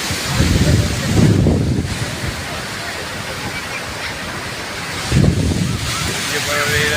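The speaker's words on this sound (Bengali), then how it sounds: "যখন এসে জল চলে যায়, পায়ের মাটি চলে যায়" Ocean surf at Dumas Beach in Surat, Gujarat, with waves washing in and out in a continuous broad roar, swelling at intervals under heavy wind buffeting the microphone.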